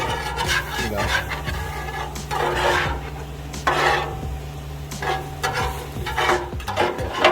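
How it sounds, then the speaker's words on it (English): A steak is turned and cooked on a Blackstone flat-top griddle, giving steady close sizzling with repeated scraping and rubbing strokes of a spatula and a few sharper hisses, with no talking. "Get your steak, turn your steak over like so."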